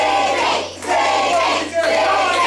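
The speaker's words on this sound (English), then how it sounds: "The crowd are coming alive" A pro wrestling crowd at a Hex Pro Wrestling show chants for Ziggy Strange, loud rhythmic group shouting in repeated swells with brief dips between them, filling the arena.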